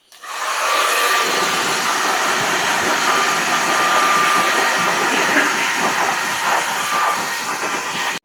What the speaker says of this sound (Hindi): फिर इसको एयर ड्रायर से पूरा ड्राई करेगा।